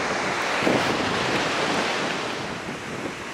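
Ocean waves wash in under strong gusting wind at Cherry Grove beach, a broad continuous roar with a surge near the start, no voices present.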